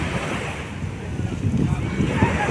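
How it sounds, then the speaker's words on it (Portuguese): Strong ocean waves roll onto Antunes beach in the late afternoon, a steady broadband surf wash with gusty wind buffeting the microphone throughout and no talking. "Já é bem de tardezinha e as ondas estão bem fortes."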